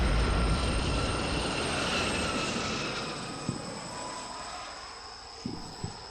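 An aircraft flies over a military combat video game scene, a steady broad engine roar that swells loudest at first and slowly fades, with a few faint thumps near the end.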